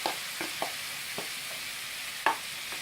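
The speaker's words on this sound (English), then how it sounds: "I'll just fry these off with the roots now" Jerusalem artichokes and root vegetables sizzle steadily in a frying pan, with occasional scraping stirs and clinks of a utensil against the pan, close and unbroken.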